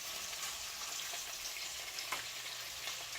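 An onion and tomato mixture sizzles and fries steadily in a hot pan, a soft, even hiss with faint crackles, close but quiet.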